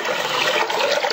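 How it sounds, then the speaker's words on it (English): Water pours steadily into a bowl from a tap, a close, even rushing and splashing with no pauses, heard alone. "we want to fill up a bowl here and get plenty of water"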